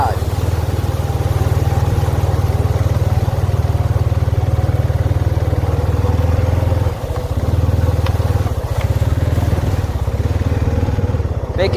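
Honda motorcycle engine idling close by, a steady low rumble with a brief dip partway, then settling back to an even idle.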